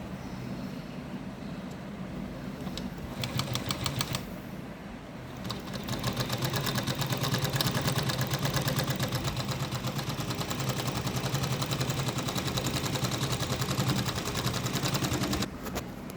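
A sewing machine stitches fabric in short bursts and then in a longer steady run, a quick, even mechanical whirring and clatter heard close up with no talk.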